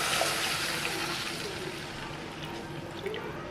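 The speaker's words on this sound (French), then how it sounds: "je vais rajouter l'eau. J'ai mis de l'eau tiède." Lukewarm water poured into a cooking pot of sautéed carrots and onions, a steady, moderately loud splashing stream that runs continuously with no one talking.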